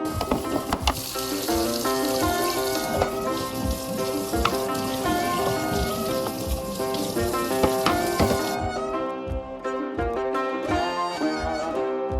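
Tap water runs steadily into a kitchen sink while plastic refrigerator bins are rinsed, a dense continuous splashing hiss with clattering knocks, cutting off near the end.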